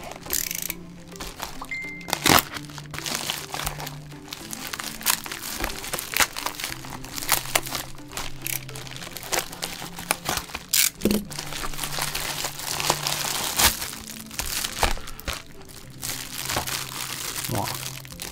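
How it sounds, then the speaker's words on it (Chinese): A shipping package holding a SONY camera battery bought online is torn open and unwrapped, with repeated close, loud crinkling and crumpling of plastic wrapping and scattered rustles while someone talks over it. "从虾皮热腾腾的取货了，我们就来拆开看看"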